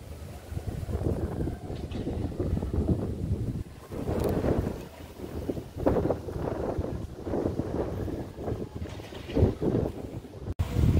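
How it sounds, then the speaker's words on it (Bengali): Strong wind sweeps over flowing river water at the Sangam, a continuous blustery rumble with surging gusts buffeting the microphone throughout. "এত হাওয়া, পুরো জলে পুরো স্রোত বইছে মনে হচ্ছে।"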